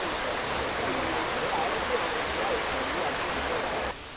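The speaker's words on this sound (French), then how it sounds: "En gros c'est cette cascade là, avec une cascade derrière." A waterfall at Yangmingshan in Taiwan roars as a dense, steady wash of falling water, close and loud throughout, with faint speech barely audible beneath it.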